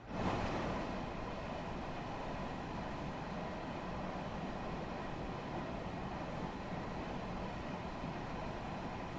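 A commuter train on the Harlem Line in Train Sim World 2 runs steadily, a constant broadband rumble and rush heard through an open cab window, loud and unbroken with no talk.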